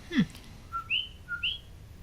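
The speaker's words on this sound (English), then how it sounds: "It's a little tree frog. Doesn't croak. It sings its name." A coqui tree frog calls twice in the quiet, each a two-note chirp, a low note rising to a higher one, faint and clear.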